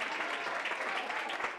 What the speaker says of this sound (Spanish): Aplaude el público.